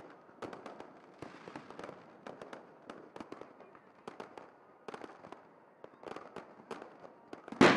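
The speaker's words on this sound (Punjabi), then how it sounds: "ਅਲੌਕਿਕ ਆਤਿਸ਼ਬਾਜ਼ੀ ਦਾ ਨਜ਼ਾਰਾ ਵੀ ਵੇਖਣ ਨੂੰ ਮਿਲਿਆ" A fireworks display at Darbar Sahib on a Vaisakhi evening, heard as irregular booms and crackling bursts at moderate distance, ending with a louder close burst.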